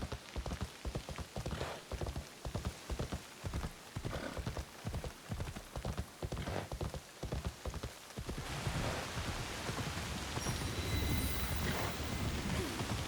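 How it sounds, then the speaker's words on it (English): Rain in the samurai action game Assassin's Creed Shadows, first under rhythmic horse hoof clip-clops, then swelling into a dense, steady downpour that fills the scene on its own. "It keeps raining."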